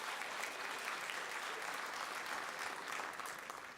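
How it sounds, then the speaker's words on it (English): An audience at a choir concert applauds a singer, a full, even wash of clapping held at a steady level and fading slightly at the end. "So give Jamie a round of applause"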